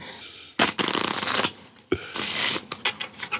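A deck of playing cards is shuffled firmly, with two long riffling bursts close up followed by quick taps and short riffles as the deck is squared.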